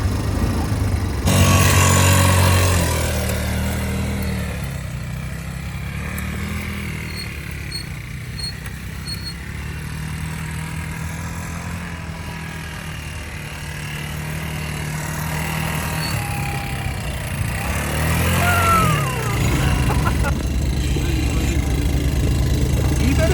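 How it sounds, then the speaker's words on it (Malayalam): An old vehicle's engine rumbles steadily throughout a ride through a snowy forest near Bursa, Turkey, a continuous, fairly loud drone with some rattling variation. "കുറച്ച് പഴയ വണ്ടിയാണല്ലോ."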